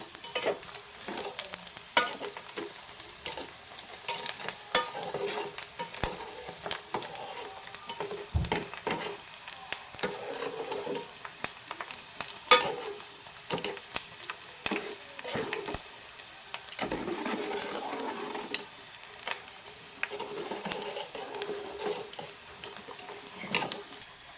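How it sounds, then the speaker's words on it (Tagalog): Pork skin chicharon being stirred as it fries in hot oil, with a steady crackling sizzle and occasional scraping knocks of the utensil against the pan over the whole stretch. "I-mix para maluto lahat ng balat ng chicharon."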